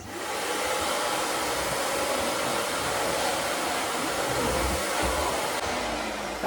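A STIHL SE 33 vacuum cleaner runs continuously with a loud, steady broadband whoosh and motor whine, close by and unbroken from start to finish, with no talk.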